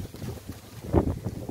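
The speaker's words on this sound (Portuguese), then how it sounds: "Olha que vento gostoso, maravilhoso aqui." Gusts of outdoor wind buffet the microphone in low, uneven rumbling bursts, rising to a stronger gust near the middle, with no speech.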